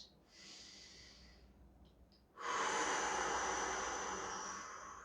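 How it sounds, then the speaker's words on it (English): A forceful exhale blown out as if through a straw, a short soft breath first, then a long loud rushing stream of air that fades slightly toward the end. "blow all that air out of your straw until you have no more left in you"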